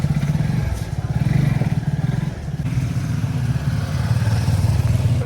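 Two luggage-loaded motorbikes pull away from a hotel in winter, their mid-pitched engines rumbling steadily and close with uneven revving and some clatter throughout.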